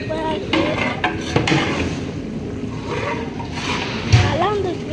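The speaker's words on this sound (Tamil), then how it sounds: "அப்பா கிண்டிட்டு இருக்காரு" A father stirring meat curry in a pot, with a ladle scraping and clinking against the metal in a steady, close clatter beneath ongoing background chatter and voices.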